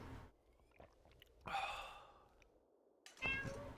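A pet cat meows twice at close range, with short, clear calls spaced a couple of seconds apart over a quiet room background.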